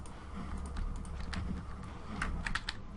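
Computer keyboard keys are pressed during a Minecraft game, with soft, irregular clicks and taps in quick bursts over a faint background hum.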